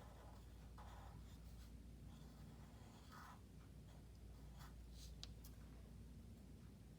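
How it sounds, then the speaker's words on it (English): Sharpie marker on paper, drawing a bubble outline around letters: faint, steady scratchy strokes close up, with brief squeaky marks and no talking. "And then with my Sharpie, I come back and I draw a little bubble around those lines."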